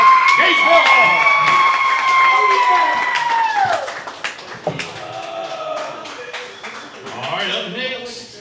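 A crowd at a high school football coach's show claps and cheers for a player, the applause scattered and uneven with whoops and voices mixed in, loud at first and then thinning out under ongoing talk.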